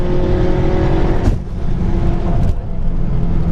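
Drag race cars accelerate hard, with a loud close engine roar that dips briefly and then surges again as another car revs past.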